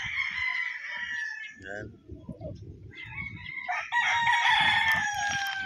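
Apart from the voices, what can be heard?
bull stag roosters crowing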